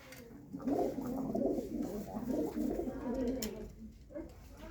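Pigeons coo in low, rolling murmurs, several birds overlapping close by in a continuous soft warble.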